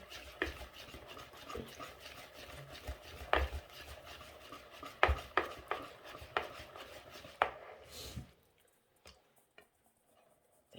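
Banana cake batter being stirred by hand in a bowl, round and round in one direction: close scraping and tapping strokes in an uneven rhythm, fading to near silence for the last few seconds.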